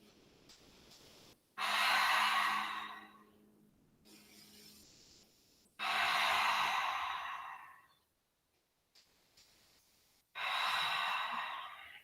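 Deep breaths taken during a yoga exercise in a studio: three long, loud airy exhales or inhales spaced several seconds apart, with quieter breathing and faint low sound in between.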